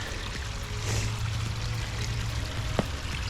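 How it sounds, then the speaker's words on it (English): Water streaming and splashing as pond filter foams are squeezed out, a steady wet gush with a few sharper drips and splashes, close and continuous with no talk. "you're squeezing out all the filter foams inside"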